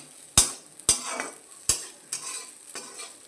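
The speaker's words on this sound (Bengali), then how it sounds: "একটু ভাত রেখে দিয়েছিলাম সেটা নিয়ে ভেজে দিলাম" Leftover rice stir-fried in a pan, with sharp scraping strokes of a spatula at irregular intervals over a low, steady sizzle, close up and with no voices.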